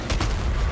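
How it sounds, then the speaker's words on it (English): A grenade detonating in the video game DOOM Eternal: a loud, close burst of sharp cracking blasts, a couple of quick impacts followed by a rumbling tail, all within under a second, with no talk. "Grenade."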